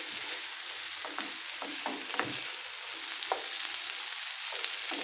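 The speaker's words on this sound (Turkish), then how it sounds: "3-4 dakikada sucuklarımı da birlikte kavuralım" Turkish sucuk sausage sizzles steadily in a hot pan, with occasional light clicks and scrapes of stirring over the constant crackling hiss.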